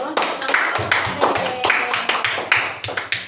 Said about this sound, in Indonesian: kita beri tepuk tangan yang gemuruh